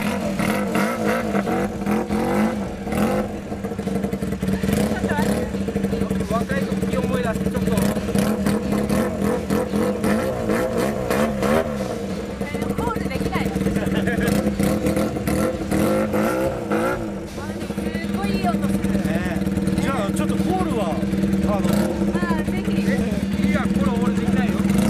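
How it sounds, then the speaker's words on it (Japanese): An old Honda motorcycle with straight-pipe exhaust idles and revs repeatedly, rising and falling in pitch, with people talking nearby throughout. "もうこれエンジンかけちゃっても 大丈夫。"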